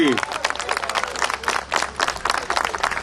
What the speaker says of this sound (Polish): Proszę Państwa, wielkie oklaski!